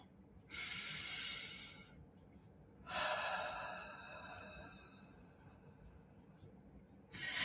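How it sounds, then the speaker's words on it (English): Slow, deep breaths drawn in through the nose and let out through the mouth, heard as two long, soft, airy exhales spaced a few seconds apart, close and quiet. "breathe in through your nose and out through your mouth"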